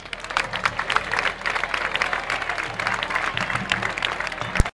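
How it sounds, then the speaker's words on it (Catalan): A crowd at a human tower gathering in Valencia breaks into steady, dense applause that holds for several seconds before cutting off. "Un fort aplaudiment."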